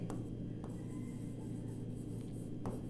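A single word is written on a board with a marker or chalk, giving a soft, faint scratching stroke sound over a steady low room hum, with a few light taps at the start and end.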